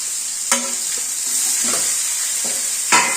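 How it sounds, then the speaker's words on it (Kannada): Onions and curry leaves fry in oil in a pan, a steady bright sizzle punctuated by a few sharp spoon clanks and stirring scrapes, close and without any voices. "ಬಾಂಡ್ಲಿಗೆ ಒಂದು ಸ್ವಲ್ಪ ಎಣ್ಣೆ ಹಾಕೊಂಡು, ಆ ಎಣ್ಣೆಗೆ ಸ್ವಲ್ಪ ಕರಿಬೇವಿನ ಸೊಪ್ಪು ಹಾಕೊಂಡು, ಸ್ವಲ್ಪ ಇವಾಗ ಈರುಳ್ಳಿ ಹಾಕೋತಾ ಇದ್ದೀವಿ"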